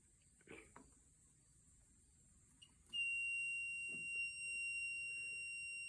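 A multimeter set to continuity testing on a Sears GT18/20 garden tractor's charging circuit sounds a steady, thin electronic beep. The tone starts partway through and holds unbroken after some faint handling noises.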